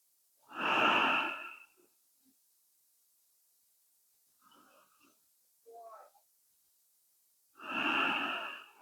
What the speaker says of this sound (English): Take a few rounds of breath here.